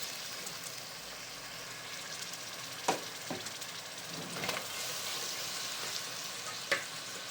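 Mixed vegetables fry in a hot pan, giving a soft, steady sizzling hiss with a few brief clinks and stirring knocks, fairly faint and with no one talking.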